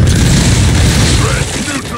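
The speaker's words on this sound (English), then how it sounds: "Maybe they're shooting at those" Gunfire and explosions in the Gears 5 Hivebusters video game come as a loud, dense barrage of booms and rattling shots, close and continuous, with voices partly mixed in.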